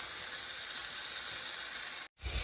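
Chicken pieces fry in a pan with a steady, bright sizzle that hisses continuously, then cuts out briefly and comes back.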